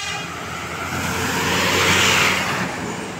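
Bus rolling along the entry lane of Terminal Purwokerto, a broad engine and road rumble that swells as it nears and then eases off, steady and fairly loud with no speech over it.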